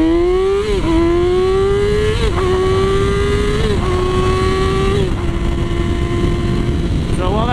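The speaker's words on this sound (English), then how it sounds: "as you saw with that acceleration, this thing rips through the gears now" A Yamaha R6 sport motorcycle accelerating hard through the gears, its engine whining upward, dropping briefly at each quick shift and climbing again, loud and close under heavy wind roar.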